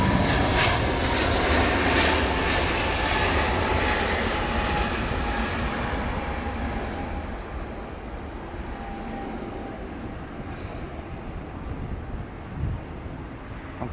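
An Airbus A320neo airliner at Heathrow gives a broad, loud engine rumble that slowly fades and settles into a softer, distant roar with a faint whine over the last seconds.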